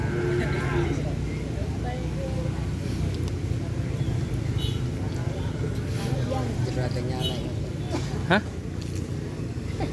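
A bus passes along a road beside a sports field while a group of people stands talking, its low engine rumble steady and close under their chatter.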